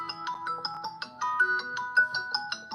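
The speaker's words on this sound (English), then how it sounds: "sorry, my phone is ringing" Mobile phone ringing with a melodic ringtone of quick bright plucked notes in a steady repeating pattern, moderately loud and alone without talk.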